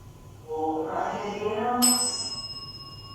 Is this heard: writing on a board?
no